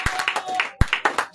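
A church congregation claps hands in a quick, uneven rhythm, close and fairly loud, with voices mixed in.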